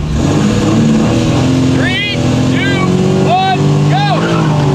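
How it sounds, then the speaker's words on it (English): A car engine, either a 1996 Chevy Beretta or a 1992 Lexus SC300, held at a loud steady drone with rising rev sweeps just before a street race, while people talk faintly beneath it. "All right, revs up."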